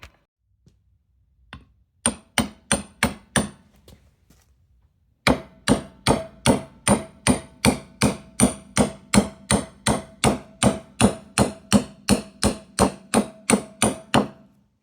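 Hammer tapping a rear axle hub seal into place on a Ford F250 truck: a couple of isolated knocks, then a long run of steady, evenly spaced metallic taps, close and fairly loud, with no talking.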